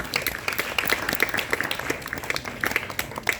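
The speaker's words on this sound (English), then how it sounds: "I give you a round of applause" Students in a lecture room give a round of applause, a light, uneven scattering of individual claps from a modest group, close and clearly separated rather than a dense roar.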